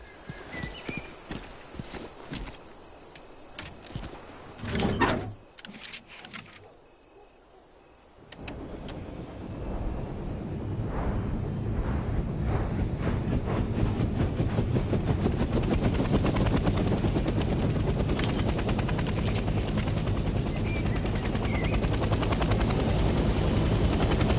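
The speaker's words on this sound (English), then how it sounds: "Let's start by getting in the pilot seat and turning the engine on." A helicopter in the Vietnam-era video game Hell Let Loose Vietnam starts its engine from the pilot seat: some clicks and switch sounds, a sharp knock, a short lull, then the turbine and rotor noise rise into a steady, loud drone.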